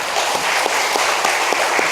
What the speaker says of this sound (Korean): 박수를 담아서 보내겠습니다.